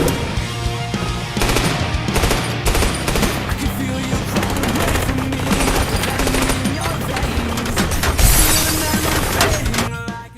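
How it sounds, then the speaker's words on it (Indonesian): Dense automatic gunfire from a shootout in the action film John Wick, with rapid bursts and sharp cracks layered over a tense movie score, loud and continuous throughout. "Tembakan pun terus terjadi."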